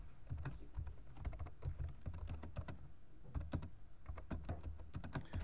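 Fingers type code on a computer keyboard in uneven bursts of close, clicking keystrokes with brief pauses, quiet and without speech.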